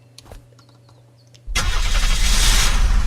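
Ambulance engine in the video game Unturned cranks and catches at once, jumping from near-quiet to a loud, steady rumbling idle that keeps running.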